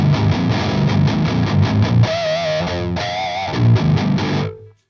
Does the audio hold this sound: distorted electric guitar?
yes